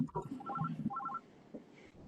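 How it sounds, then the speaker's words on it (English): A mobile phone ringtone plays faintly in a meeting room during a zoning appeals board session. Its short, repeating melodic pattern of quick notes sounds twice under a low voice. "somebody's phone is ringing, or what?"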